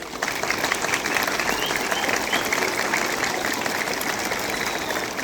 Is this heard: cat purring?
no